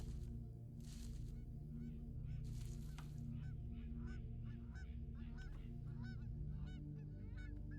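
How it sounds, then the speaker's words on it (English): A goose honks repeatedly in a video game, a rapid series of nasal calls over a low ambient drone with no talk, mid-distance and fairly steady. "I hear a goose."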